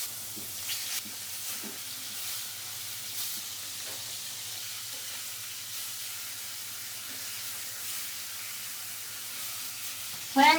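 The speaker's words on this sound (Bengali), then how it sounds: "কড়াই গরম হয়ে গেছে, দিয়ে দেবো সরিষার তেল, দিয়ে দেবো মাছগুলো।" Pieces of a 4.2 kg rohu fish fry in mustard oil in a wok with a steady soft sizzle and hiss, occasional spatters and a louder clatter at the end.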